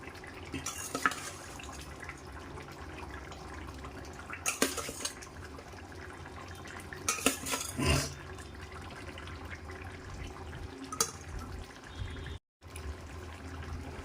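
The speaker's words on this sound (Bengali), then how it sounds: "এখন আমি এই ডিমগুলোকে একটু কেটে নিচ্ছি খুন্তির সাহায্যে, আর এই পটলগুলোকেও আমি দিয়ে দিচ্ছি এর মধ্যে।" A metal spatula cuts boiled eggs and pushes pointed gourd into a pan of simmering curry, giving soft scraping, clinks and wet stirring sounds in scattered bursts, quiet overall with a brief dropout near the end.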